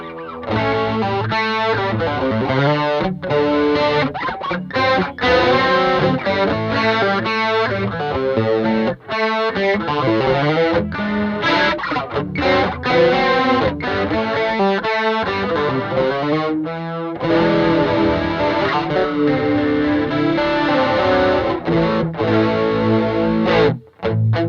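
A Golden Horse effects pedal plays solo on an electric instrument, its driven, saturated tone carrying a continuous run of notes and chords with only brief breaks.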